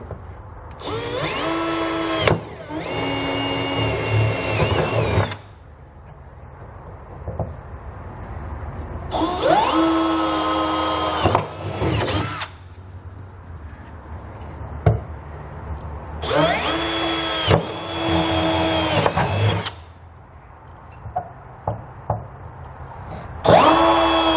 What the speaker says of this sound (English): we can go inside of the bed, and with the full-size bit, drill completely down